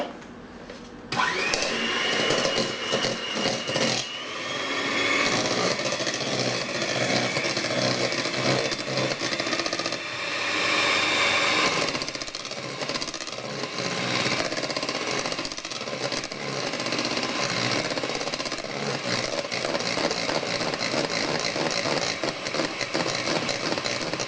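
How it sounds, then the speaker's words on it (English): Electric mixer whisking two eggs with caster sugar, a loud, close, continuous motorised whirr and buzz running almost unbroken with slight shifts in pitch as the beaters move through the bowl. "I've already cracked 2 eggs, and we add to this 250 grams of caster sugar, which we will whisk"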